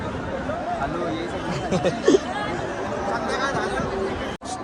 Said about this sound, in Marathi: भरपूर गर्दी आहे बघा कशी चालले का सर्व